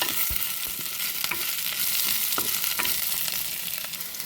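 Dried fish and sliced onions sauté in a pan for a dried-fish curry. A dense, bright sizzle runs steadily and close, with occasional light stirring taps and no one talking.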